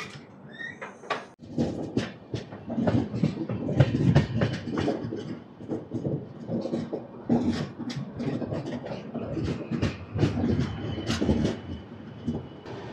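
The Rayalaseema Superfast Express, train 12794, pulls out of Nizamabad Junction toward Tirupati with a loud, steady rumble and rhythmic wheel clatter on the tracks. No voices are heard.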